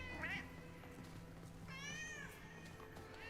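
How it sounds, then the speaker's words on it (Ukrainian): A cat meows twice, a short rising call followed by a longer, drawn-out one, both fairly faint over a steady low background hum. "Это мой котик."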